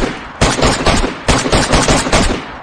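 Gunfire in the survival game DayZ: loud, close bursts of rapid automatic shots in several clusters, sharp and dense, with no voices.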